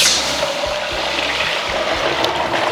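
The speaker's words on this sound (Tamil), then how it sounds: "அதுக்கேற்ற தண்ணி ஊற்றிக்கலாம்." Water pours steadily into a large pot for making ragi porridge, a continuous close, loud rushing and gurgling without a break.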